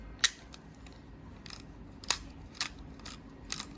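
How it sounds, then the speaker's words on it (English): Several sharp mechanical clicks from a 35mm disposable camera shutter and film wheel sound at irregular intervals, two of them crisper and louder, with faint ratcheting ticks between them in a quiet room. "We'll hear a shutter click."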